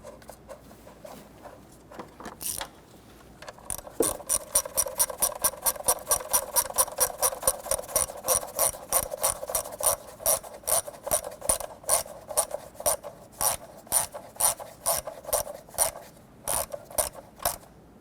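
A bolt on the lower engine cover of a 1992-1996 Toyota Camry 2.2L four-cylinder is turned with a ratchet, giving a long run of rapid, evenly spaced clicks, close and fairly loud, with no talk.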